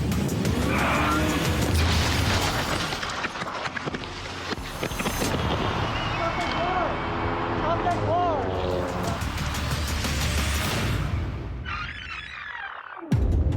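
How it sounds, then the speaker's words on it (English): An SUV brakes hard ahead on a Phoenix, Arizona highway, with tire squeal and skidding heard from a motorcycle under loud, constant engine and wind roar, followed by a sudden jolt near the end. "the SUV ahead slams on the brakes and then takes off"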